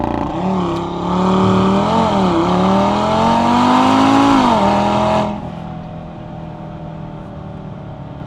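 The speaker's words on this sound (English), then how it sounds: "Kind of want to try a launch control." An all-wheel-drive Audi revs hard using launch control, its engine note rising and wavering loudly for several seconds before cutting back to a quieter idle hum.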